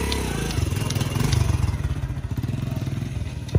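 A motorcycle engine idles close by in a steady rapid chugging rhythm that pulses slightly throughout, with faint background clatter and no clear speech.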